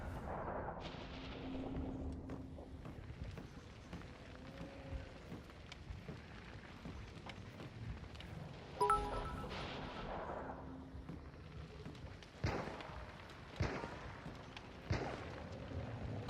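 Gunfire in the video game Hunt: Showdown crackles as scattered distant shots and booming reports over a low rumbling ambience, with a few sharper, closer blasts.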